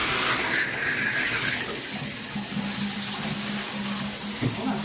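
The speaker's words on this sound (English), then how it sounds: "now you gotta do your clean rinse." Water rinsing in a bath during a bubble bath clean rinse, a steady close splashing and running-water wash with a faint low hum underneath.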